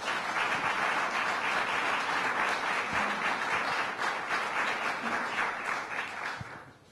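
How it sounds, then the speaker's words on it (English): Sustained applause from an audience at a swearing-in ceremony for new state commissioners, steady dense clapping close by that fades slightly toward the end. "let's give him a round of applause"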